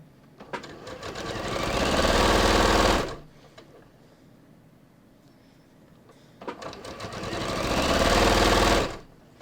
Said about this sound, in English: I'm just going to overlap my start point and back tack a little bit, and then let's cut that